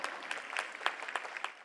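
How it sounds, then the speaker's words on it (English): Audience applause at a school annual day celebration, a short faint burst of dense clapping heard from a distance, with no voices over it. "A huge round of applause."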